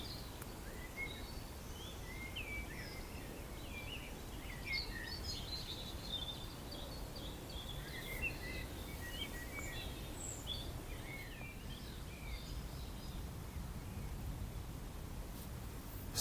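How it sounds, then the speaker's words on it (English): Birds singing around a fishing lake at dusk, a quiet scatter of chirps and short phrases from several birds, somewhat distant, over a soft hiss of still ambience with no talking. "just listen to that bird song"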